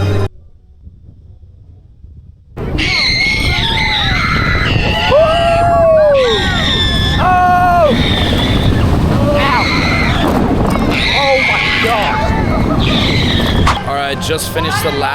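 Kraken floorless roller coaster ride at SeaWorld Orlando: a quiet start, then loud rushing wind roar and rattling track noise with riders screaming and shrieking throughout, close to the microphone.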